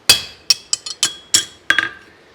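A pritchel is hammered through the nail holes of spavin horseshoes during forging, giving a run of about seven sharp metallic strikes with ringing, clinking tails. Loud and close, in an uneven rhythm, with no talking.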